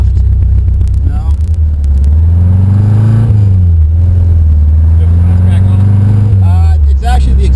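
A Saab Sonett engine runs through resonator exhausts, a loud, deep rumble that rises and falls in pitch as it revs repeatedly, heard close up with some clicks over the drone.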